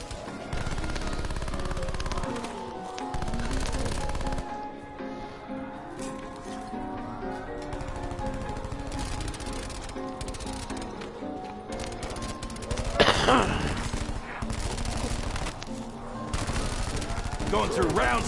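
Rapid bursts of automatic gunfire from a solo zombies shooter game, loud and almost continuous, with a denser volley near the end and a voice talking over part of it.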